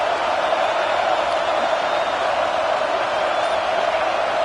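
A college football stadium crowd roars steadily and loudly on a fourth down, a dense unbroken wall of noise filling the whole stretch.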